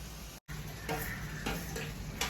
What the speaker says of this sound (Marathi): चांगलं पाच दहा मिनिटं याला भाजून घ्यायचं तेलात